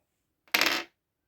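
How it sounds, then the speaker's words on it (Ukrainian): A single die is tossed onto a hard surface during a cross-stitch embroidery board game, giving one short, bright rattling clatter of about a third of a second, close and alone with no voices. "Зараз кину кубик."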